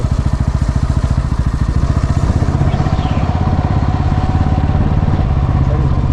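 A motorcycle engine idles loud and close with a steady rapid chugging throb while bikes are parked at a roadside stop, voices faint in the background.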